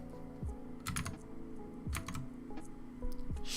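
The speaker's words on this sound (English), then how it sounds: "We're just typing some stuff." Keys clatter on a computer keyboard during a coding session, short bursts of close, crisp clicks with brief pauses between, over a low steady hum.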